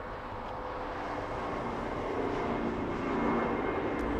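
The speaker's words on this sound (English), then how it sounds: "Lufthansa 456, today landing 20 minutes late." Steady, broad jet roar of a Lufthansa Boeing 747-8 landing at Los Angeles International Airport, heard from a distance as a continuous rushing rumble that swells slightly toward the end.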